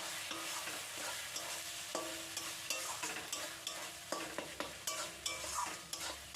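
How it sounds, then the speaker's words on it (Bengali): Peel and prawn paste (green banana and pumpkin peels ground with shrimp) stirred in hot oil with nigella seeds: steady sizzling frying under frequent scraping, clicking spoon strokes against the pan. "তারপরে সব কিছুর যে পেস্টটা তৈরি করা হয়েছিল সেই পেস্টটা এখন দিয়ে দিচ্ছি তেলের মধ্যে"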